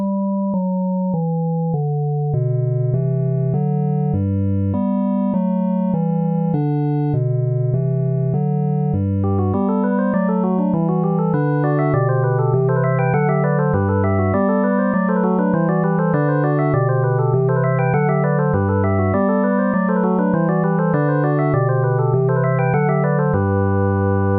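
A Bach canon plays back in clean synthetic computer tones, a low line starting alone before a higher voice joins in imitation, with steady even notes throughout and no talking.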